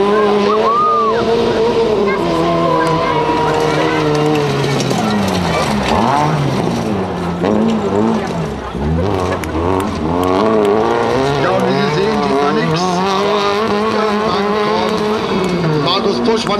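An ice-blue Nissan Micra rally car of about 120 hp drives a special stage at a rally in Schneeberg, its loud engine revving up and down through the gears, with a commentator talking over it throughout.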